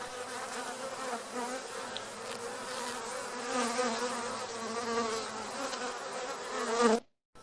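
Honey bees buzz steadily inside a colony with queen, drones and workers, a dense close-up hum that holds at an even loudness before cutting off abruptly near the end.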